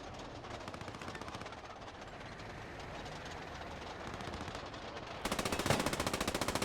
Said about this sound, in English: MG fire there from Blitzkrieg gets a double kill